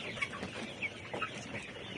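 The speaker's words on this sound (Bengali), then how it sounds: "পোলেট মুরগি মানেই হচ্ছে ডিমের মুরগি" Laying hens cluck softly in a poultry shed, a few short, faint calls over a low, steady background hum.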